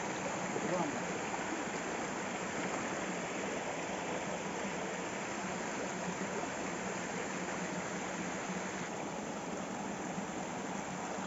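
A small stream runs down through a creek bed with a steady, even rushing of water that fills the whole stretch without breaks. The flow is close and moderately loud.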